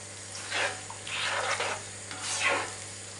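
Chopped onion gently sizzling and sautéing in a pan with lamb offal nearby, soft frying hiss swelling in three bursts as it is stirred, close and moderately quiet with no talk.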